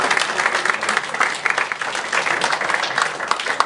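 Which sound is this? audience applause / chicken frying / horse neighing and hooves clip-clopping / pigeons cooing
audience applause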